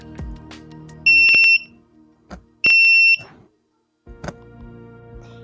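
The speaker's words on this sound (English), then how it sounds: "when an object is less than 10 centimeter, the ultrasonic sensor will beep" Two long, loud electronic beeps from the buzzer of an Arduino ultrasonic-sensor security system, sounding when an object is under 10 centimetres away, separated by a pause, with clicks and faint handling noise around them.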